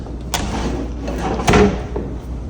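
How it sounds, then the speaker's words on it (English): Kitchen drawers in a large estate house sliding and knocking shut, a few quick thuds and rolling slides close by over a low background hum. "storage space is definitely not lacking in this kitchen. We've got all these"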